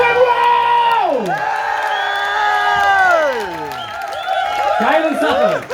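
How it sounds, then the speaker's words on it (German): An audience at a rock and roll festival cheers, whoops and applauds for the Firebirds. The crowd noise is loud and close, with high voices rising and sliding over a dense wash of clapping. "Ein dicken Applaus für die Firebirds!"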